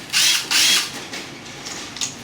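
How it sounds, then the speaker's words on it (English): Electric screw gun driving tight fender screws out of a beach cruiser bicycle, two strong whirring bursts close by and then a few shorter, fainter buzzes. "I discovered that a nut driver"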